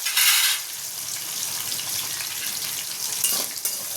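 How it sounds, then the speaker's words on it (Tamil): Shallots, garlic and green chilies sautéing in a pan for a tangy tamarind shallot kulambu, giving a loud hissing burst at first, then a steady close sizzle with occasional stirring scrapes. "நம்ம வெங்காயம் பூண்டும் பச்சை மிளகாயும் ஆட் பண்ணி இந்த மாதிரி வதக்கிக்கணும்"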